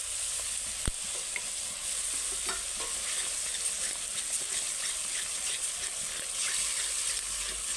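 Yogurt being stirred into fish curry frying in a pan for doi katla, a steady sizzle under soft scraping and stirring throughout, with one sharp knock near the start.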